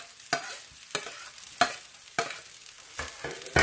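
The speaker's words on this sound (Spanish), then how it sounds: "Y lo vamos a mezclar" Spatula scrapes and stirs gallo pinto rice with cilantro in a frying pan, six distinct sharp strokes at an irregular pace over a soft background sizzle, no voices.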